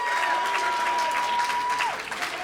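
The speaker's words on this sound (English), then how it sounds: "I want you guys to give yourselves a big round of applause" A wrestling show crowd at Chaotic Wrestling claps in a dense, sustained wash of applause, steady and loud throughout, with a faint held tone running underneath.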